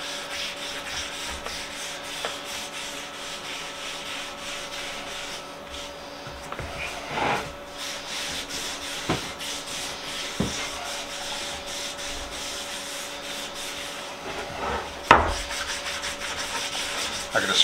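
Stain rubbed by hand into a bone-dry antique wooden leather-working vise, a stitching horse, making a faint, steady soft rubbing with occasional light knocks and scrapes, and a louder bump near the end.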